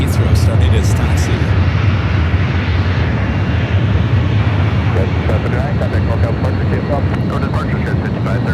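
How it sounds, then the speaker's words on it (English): A Virgin Boeing Dreamliner jet taxis at San Francisco airport, a loud, steady engine roar and rumble lasting throughout, with a radio voice faintly over it. "We do have Virgin, the Dreamliner, heading back to London Heathrow, starting its taxi."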